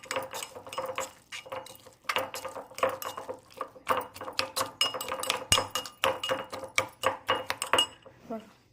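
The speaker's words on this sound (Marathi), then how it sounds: "आता थोडंसं तेल टाकायचं आणि सर्व काही मिक्स करून घ्यायचं असं" Crushed green chili thecha is mixed with oil, and a spoon clinks and scrapes against the bowl in quick, uneven strokes that keep up throughout.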